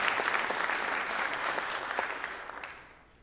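Applause from a secondary school band concert audience fills the hall, a dense crowd clapping that holds briefly and then fades out toward the end.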